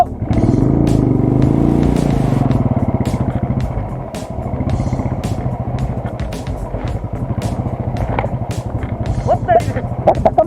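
A motorcycle engine rumbles and revs loudly up close on a snowy, black-ice road over Jalori Pass for the whole stretch while people talk over it.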